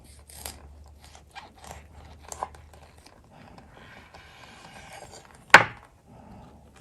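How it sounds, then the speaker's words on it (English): Knife slicing through a Vietnamese fresh spring roll, soft close scraping and rubbing strokes with a few light taps and one sharp crisp cut near the end, quiet overall and with no talking. "I'm going to cut so you can see how it look inside of the spring roll"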